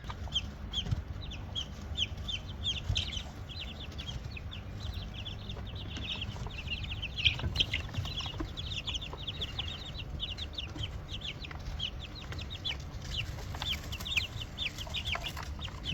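Young chickens on a homestead cluck and chirp continuously, many quick overlapping calls close by, over steady outdoor background noise.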